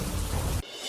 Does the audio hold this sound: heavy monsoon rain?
yes